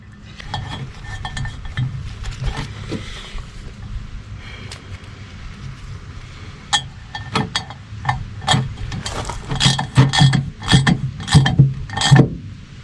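Sharp metallic ratchet clicks in bursts as a drain plug is run into a Dana differential cover on a second-generation Cummins truck, with clustered, increasingly loud strokes near the end.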